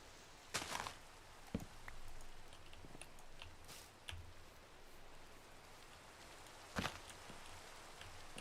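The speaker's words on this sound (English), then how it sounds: "You really hear that rain when you get close to the edge." Rain falls in the Minecraft video game, a soft, steady hiss of rainfall with a few scattered clicks and taps from gameplay, faint and continuous with no talking.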